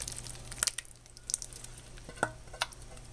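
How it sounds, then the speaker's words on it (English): Homemade cheese sauce made with evaporated milk is stirred into cooked macaroni for mac and cheese. The result is faint, sparse wet clicks and soft scraping, a handful of brief stirring strokes in a quiet kitchen. "Now here's my cheese sauce going in"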